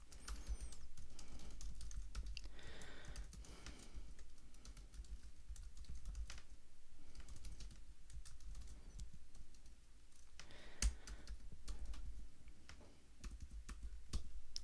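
Rapid, quiet clicking of keys on a computer keyboard, irregular taps continuing steadily throughout at close range with no voices.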